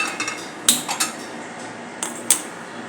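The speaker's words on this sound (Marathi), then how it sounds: "मी गॅसवर छोटासा पॅन ठेवलेला आहे" A small pan is set down on a gas stove, making a few sharp metallic clinks and taps in a quiet kitchen.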